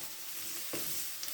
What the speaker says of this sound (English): the whole reason why I'm frying them is just to get them softer